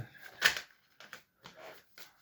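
Tarot cards being shuffled by hand in a few short, separate riffling bursts, with one louder snap of cards near the start and softer shuffles after it; close and with no talk.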